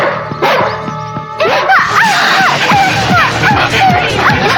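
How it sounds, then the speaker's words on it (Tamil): A dog barks and yips repeatedly at a house where police have arrived, the sharp barks overlapping loud voices and general commotion. "நாய் வந்திருக்கு"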